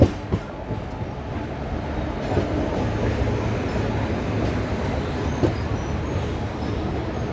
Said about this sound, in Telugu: పది నిమిషాల ముందుగానే మన ట్రైన్ విజయవాడ జంక్షన్కి వచ్చేసింది